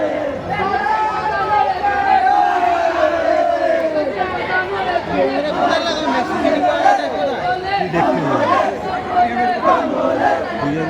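Dense crowd of pilgrims chattering in the rain at the Kachua Dham Loknath Baba temple on Janmashtami evening, a steady loud hubbub of many overlapping voices with occasional shouts rising above.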